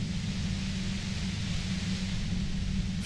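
Steady static hiss of white noise from the Disco Elysium video game, a constant, even wash of noise with no breaks, heard alone.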